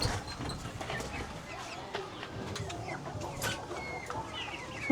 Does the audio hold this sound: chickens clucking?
yes